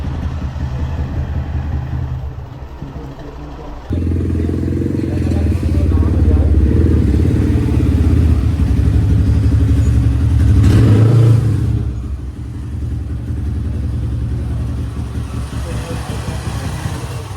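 Yamaha MT-15 motorcycle engine running steadily as the bike is ridden down toward a riverbank, a loud continuous low rumble that swells briefly with revving near the middle, with wind and outdoor noise around it.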